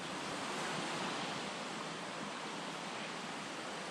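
Spruce Flats waterfall near Tremont pours in a steady, dense broadband roar of rushing water, close and continuous without a break and with no voices over it.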